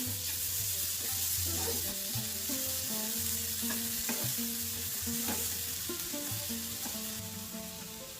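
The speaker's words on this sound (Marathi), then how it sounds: "आता यामध्ये टाकायचा ओला नारळाचा कीस, हेही फ्राय करून घ्यायचा" Grated fresh coconut fries in a pan, a steady loud sizzle with scraping stirs of a spoon against the metal throughout, no voices.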